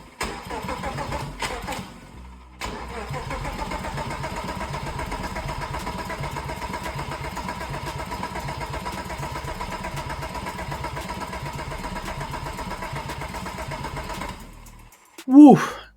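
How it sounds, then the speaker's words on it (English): A BMW E30 fitted with a 3.2 VR6 engine cranks for its first start, with a long, steady, rhythmic churning from the starter motor that stops briefly and resumes, then ends in a short, loud burst near the end. "So just plugged in the battery and started cranking."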